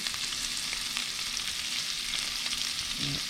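Italian sausage, onions and peppers fry in a pan with a steady, close, even sizzle. It keeps going without a break and no one talks over it.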